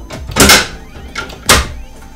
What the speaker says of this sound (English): now we can go ahead and reset our BG12 with the hex lock wrench